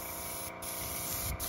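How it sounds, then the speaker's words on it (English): Spray paint in an asphalt color hisses from high above onto an N scale model road surface, a continuous broad spray with a brief break in the middle. "And so I'm going very high with this, getting a nice wide spray"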